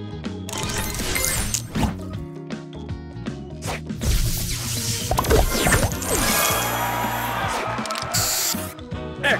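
Spray booster effect in the Match Masters puzzle game, a busy run of hissing sprays, clinks and crashing pops layered over game music, loud and continuous throughout.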